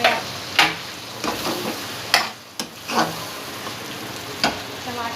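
Chopped tomatoes going into frying chicken karahi, a continuous sizzle broken by several sharp bursts of spattering and stirring scrapes at irregular intervals, close by, with no speech.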